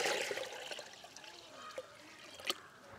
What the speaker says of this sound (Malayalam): ഈ ബക്കറ്റ് നിറയെ ഞാനിപ്പോൾ വെള്ളം ഒഴിക്കുകയാണ്